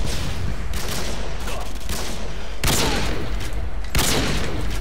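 Rapid, loud gunfire from the video game Call of Duty Modern Warfare 2, dense shots with several sharp bursts standing out over a constant roar of battle.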